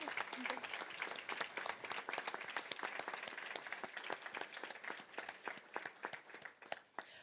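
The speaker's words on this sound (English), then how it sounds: "Big clap," Audience at a volunteer awards ceremony gives a sustained round of applause, many hands clapping densely and steadily for about seven seconds, a large crowd heard from within the hall.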